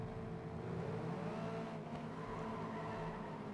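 Race cars roaring through a lap in the video game FlatOut Ultimate Carnage, a steady loud engine drone with tire noise held at constant level throughout, no pauses or talk.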